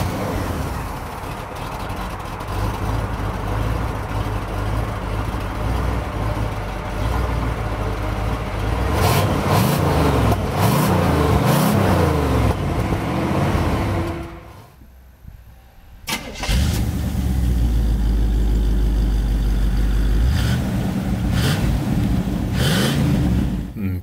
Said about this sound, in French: on peut maintenant passer en vue la nouvelle sonorité de la Caprice